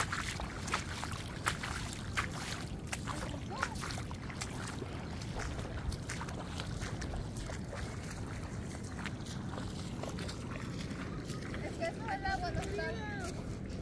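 A cayuco dugout canoe paddled along a shoreline, with steady water sloshing and dribbling against the hull, wind buffeting the microphone, and people talking throughout.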